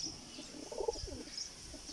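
Pigeons, three of them including a playful Delhi-baz pigeon, coo softly outdoors near a road, with a brief burst of calls in the middle over a steady background hiss.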